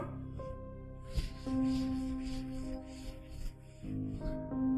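Writing is erased from a board during a maths lesson with a few sustained rubbing strokes, some carrying a faint squeaky tone, moderately close.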